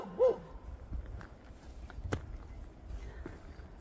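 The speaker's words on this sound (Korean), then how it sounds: "개가 지금 손님 맞이를 하고 있습니다." A dog barks at arriving visitors on a steep mountainside near a slash-and-burn farmer's home on Baegunsan, one short bark near the start followed by faint scuffling footsteps, with no talk.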